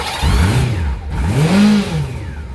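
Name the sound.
crashed motorcycle engine starting and revving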